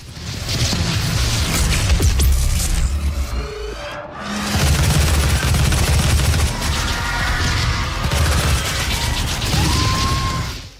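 Heavy weapon fire and crashing combat effects in Doom (2016), loud dense bursts of shots and metallic mechanical clatter, a short lull near four seconds, then another sustained barrage to the end.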